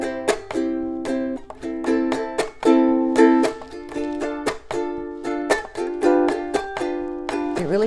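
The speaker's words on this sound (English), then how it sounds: "on the beats of 2 and 4 you add that mute in there and it sounds like this" Ukulele shuffle strum with muted chops on beats 2 and 4, played alone and close up: a steady bouncing rhythm of ringing chords punctuated by short percussive mutes.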